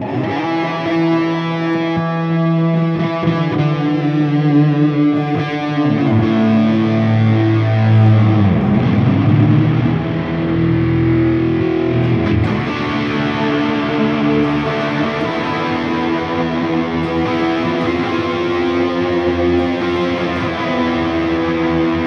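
Sustained electric guitar chords and melodic lines in a distorted, effected tone, a Lexicon multi-tap delay ping-ponging echoing repeats across two cabinets, playing steadily and loudly throughout with no talking.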